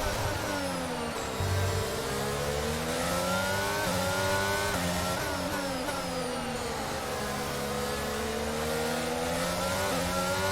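A Formula 1 race car engine in the F1 22 video game at the Hungarian Grand Prix, screaming steadily at high revs with pitch rising and falling through gear changes and corners, loud and continuous without talk.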